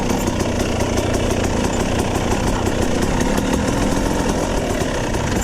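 An off-road dirt bike engine runs hard on a trail, a raspy, steady buzzing drone with rapid pulsing close to the microphone and no speech, without a clearly audible gear shift.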